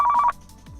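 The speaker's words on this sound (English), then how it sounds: "the phone rang again" Phone ringing in the video game Car Mechanic Simulator 2015, a short electronic trill of rapid pulses lasting about a third of a second, then cutting off, clear and alone.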